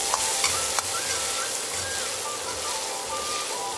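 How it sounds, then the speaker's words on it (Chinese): Green Sichuan peppercorns are tossed into a hot wok and sizzle with a steady, bright crackle, joined by a few sharp clicks of the spatula and a low rumble from the burner. "把青花椒倒入锅中，爆出香味来"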